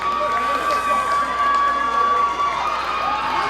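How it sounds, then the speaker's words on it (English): At a men's college soccer semifinal, Spokane supporters cheer and shout in a steady, loud wall of crowd noise, with a sustained whistle-like tone and a commentator's voice partly audible. "You can hear their crowd really trying to get behind them"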